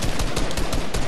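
Rapid automatic gunfire from a video game, a fast, dense burst of repeated shots, loud and close for about a second with no talk over it.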